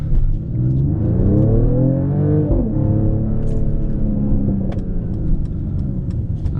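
A 2021 Mercedes-AMG GLE 53 Coupe engine hums and rises in pitch through gear changes, with a few faint crackling exhaust pops spread across the steady, fairly loud drone.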